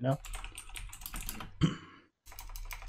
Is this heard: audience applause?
no